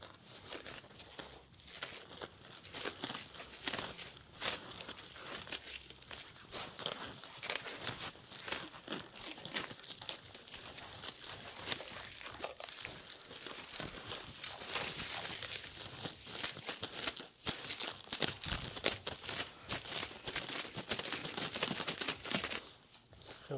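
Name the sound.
unwrapping plastic wrap from stool parts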